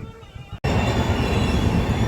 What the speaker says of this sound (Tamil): ட்ரெயின் வந்துச்சு. ஆனால் இந்த ட்ரெயின் பார்த்தீங்கன்னா லோக்கல் ட்ரெயின் இல்லை, ஃபாஸ்ட் ட்ரெயின்.